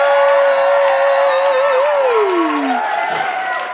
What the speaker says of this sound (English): Let's put an audience cheer track in there